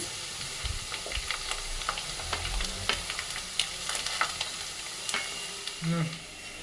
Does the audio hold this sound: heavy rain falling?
no